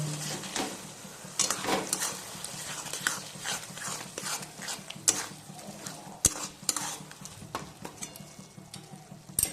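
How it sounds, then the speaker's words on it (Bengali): Spice paste with chopped green chili sautés over a low-medium gas flame, a soft continuous sizzle broken by repeated scraping and clicking strokes of a spatula against the pan. "এই সময় গ্যাসের ফ্লেমটা আমি লো টু মিডিয়ামে রেখে মশলাটাকে কষিয়ে নেব"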